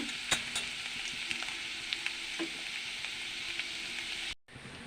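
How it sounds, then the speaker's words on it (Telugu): Sliced onions frying in a pan with salt, sizzling steadily up close with a few scattered crackles and light stirring scrapes, then cutting off abruptly near the end; no talking. "ఉల్లిపాయలు వేగుతున్నాయి"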